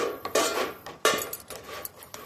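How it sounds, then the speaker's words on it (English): Bondo body filler is stirred with cream hardener in a pie pan, giving a series of scraping, clinking strokes of a tool against the pan, a few sharper knocks among quieter scrapes, with no talking. "I'm ready to mix up the Bondo and put in the cream hardener"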